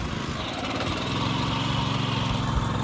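A harrow-bed-making power tiller's engine runs steadily nearby, a loud, continuous mechanical chug with no pauses.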